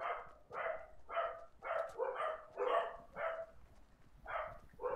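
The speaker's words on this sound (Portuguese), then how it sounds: "Desculpa os cachorros aí, galera." Dogs bark repeatedly in a steady run of about ten evenly spaced, yappy barks, moderately close and clear, with no talk over them.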